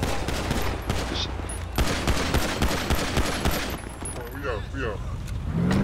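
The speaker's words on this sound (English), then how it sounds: "Shot in the air." Gunshots fired into the air during a GTA roleplay session on the CrenshawRP server: loud, rapid, overlapping bursts of gunfire forming a dense volley, with traffic noise underneath and a voice briefly heard.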